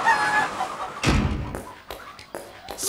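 Chickens cluck in short bursts alongside thumps and clatter in a German children's puppet show about baking, with the noises close and irregular, no talk over them.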